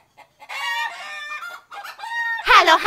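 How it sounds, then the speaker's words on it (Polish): A hen clucks in a cheerful children's farm song, a run of bright, close clucking calls with a louder burst at the end and no talking. "Kura Ula zaprasza!"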